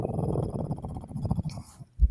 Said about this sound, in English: Whatever that other thing is that keeps growling at me in here, though, you got to feed it.